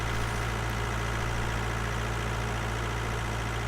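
A Polish tractor engine idles steadily in Farming Simulator 19, a constant mid-to-low drone that runs unbroken and fairly loud with no talk over it.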